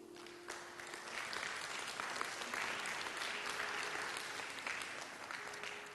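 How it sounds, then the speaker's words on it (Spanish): A church congregation applauds in a steady, dense wash of clapping that holds for several seconds at moderate distance, with no voices rising above it. "Denle un aplauso al Señor."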